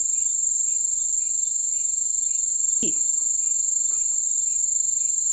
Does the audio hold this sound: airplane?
no